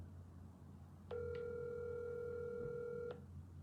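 Telephone line tone from a call being dialed: a steady electronic tone starts after a moment of quiet and holds for about two seconds, clear and close, then cuts off.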